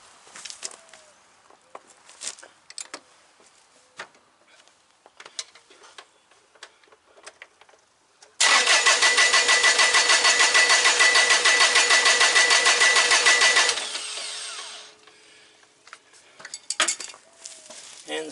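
A Kubota BX1880 tractor diesel engine, running after injector pump work, fires up suddenly amid quiet workshop clatter, runs loud and steady for about five seconds, then shuts off and winds down.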